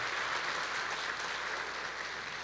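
Church congregation applauding together during a sermon, a dense, steady wash of clapping that holds evenly throughout, with no voices standing out.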